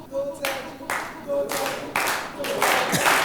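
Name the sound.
audience clapping demonstration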